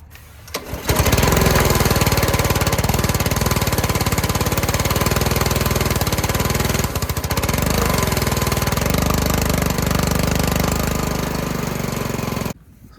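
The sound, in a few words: pressure washer engine running and surging at idle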